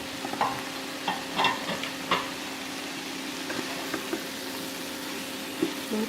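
Ground bread crumbs stirred into an egg breakfast mixture in a pan, soft scraping and mixing strokes over a steady low sizzle, with a few louder taps of the utensil against the pan.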